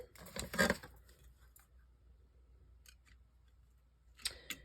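Paper pieces being cut with scissors at a crafting table, a dense burst of close snipping near the start, a few faint snips in the middle, and another short cluster of cuts at the end, with no talking.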